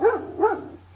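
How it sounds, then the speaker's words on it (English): Two quick barks from a dog, close and fairly loud, spaced under half a second apart with a low steady hum beneath them. "Shut up, dog."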